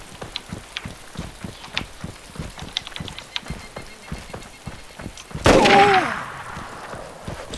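A single loud gunshot in the DayZ video game rings out sharply over a steady patter of rhythmic clicks, followed by a brief ringing tail.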